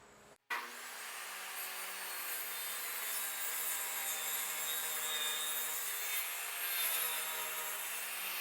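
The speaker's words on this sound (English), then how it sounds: "I'm just going to be shaving off little strips of wood until I get the edges of this thing as close to perfectly flat as I can" Steady shaving of thin wood strips from the edges of a board to flatten it, a continuous bright rasping hiss that holds loud and unbroken for about eight seconds after a brief sharp start.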